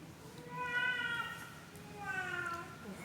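A cat gives two drawn-out, wavering meows, faint and somewhat distant, against a quiet room background.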